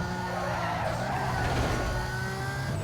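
Continuous roaring engines with tires screeching and skidding in Need for Speed: Most Wanted, loud and steady for a few seconds, no voices.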